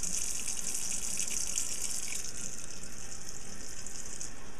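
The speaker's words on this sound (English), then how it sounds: "So I'm going to turn on the water." Kitchen tap running into a cooking pan for spaghetti water: a steady loud hissing gush of water that does not change throughout, with no speech.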